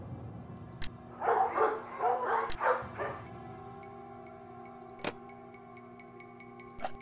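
Dogs barking in the Nancy Drew game Ghost Dogs of Moon Lake, a quick cluster of several sharp barks in the middle over a quiet steady hum, with a few isolated clicks before and after.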